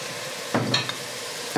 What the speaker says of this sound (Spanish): Vamos a sellar la carne un poquito.